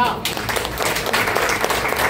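A crowd at an outdoor political meeting in Plaine Verte claps for local members of parliament, a brisk burst of applause mixed with a voice speaking loudly over it.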